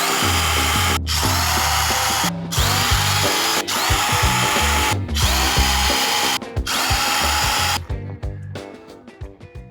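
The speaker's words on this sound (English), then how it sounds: "Now we have to drill, screw it and clean." A power drill whines loudly in several long bursts separated by brief pauses, then slows and winds down at the end, drilling for screws on a boat.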